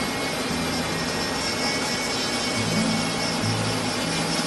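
Steady hand sanding on a carved wooden black-capped chickadee, smoothing out tool marks: a continuous, even abrasive hiss with no breaks, close and moderately loud, no voices.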